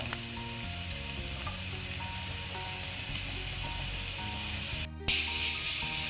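Grated radish frying in a hot pan for mooli paratha, giving a steady close sizzle and spray-like hiss, with a sharp louder burst of hiss near the end.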